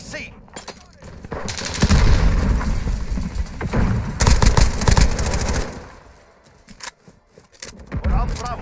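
MP5 submachine gun firing in Modern Warfare, with dense automatic bursts and a mix of distant explosions through the middle of the stretch, easing off into a quieter lull before another burst near the end.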